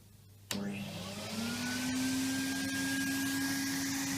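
A Henry Hoover vacuum cleaner switches on with a sharp click and its motor whine rises and settles into a steady, close hum that continues to the end.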